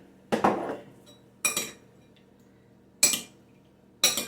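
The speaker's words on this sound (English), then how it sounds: "I am going to throw in my cherries." Cherries dropping into a dish while making a Southern fruit dessert, four separate clinks and clatters spaced about a second apart, each with a short ringing decay, close and clear in a quiet kitchen.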